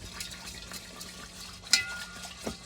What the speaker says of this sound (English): I'm just on my second wash for the rice